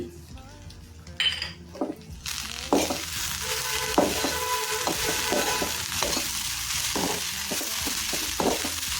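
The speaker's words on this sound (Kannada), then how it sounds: "ಸ್ವಲ್ಪ ಉಪ್ಪು ಲಿಂಬೆ ಹಣ್ಣನ್ನು ಹಿಂಡ್ಕೊಂಡು ಅದಕ್ಕೆ ಸ್ವಲ್ಪ ಕೊತ್ತಂಬರಿ ಸೊಪ್ಪು ತೆಂಗಿನಕಾಯಿ ತುರಿ ಹಾಕ್ಕೊಂಡು ಮಿಕ್ಸ್ ಮಾಡಿ" Sprouted moong dal kosambari salad being mixed with grated coconut, coriander, salt and lemon juice, giving close, irregular spoon-and-bowl clinks and soft stirring scrapes across a steady background hiss, with no talking.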